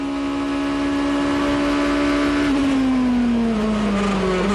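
GP2 race cars from the 2005 series in Turkey, with a loud, close engine whine holding a steady pitch, then dropping through downshifts as the car brakes.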